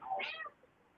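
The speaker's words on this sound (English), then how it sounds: "Dreams, how the sweet kitties doing? Little baby kitty" A baby kitten gives one short, high meow, fairly faint and close, followed by quiet.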